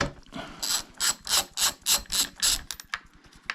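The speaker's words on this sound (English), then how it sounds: "I'm going to remove this now. It's a 19mm socket, counterclockwise," A ratchet with a 19mm socket turning counterclockwise to loosen the spark plug of a STIHL MS250C chainsaw, giving a close, rhythmic run of about ten sharp clicking strokes that trail off at the end.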